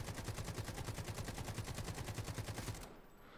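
Rapid sustained automatic fire from an AKM rifle in the video game Delta Force Hawk Ops, a loud steady stream of evenly spaced shots that cuts off abruptly near the end, leaving quiet.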